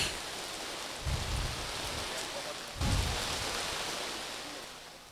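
Steady rain hisses in a broad wash of noise during an outdoor community event, with a couple of louder gusts or bursts around the one- and three-second marks.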